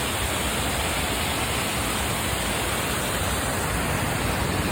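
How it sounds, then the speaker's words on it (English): A long river rushes in a steady, even wash of broadband noise with no speech, a close and continuous flow that stays level throughout. "That is this gorgeous river here."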